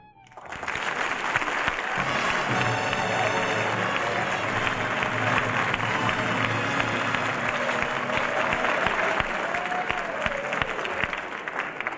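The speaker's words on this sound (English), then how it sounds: "But why should I get all that applause?" A studio audience breaks into loud, sustained applause and cheering for a film actress's entrance, steady clapping filling the whole stretch with crowd noise underneath.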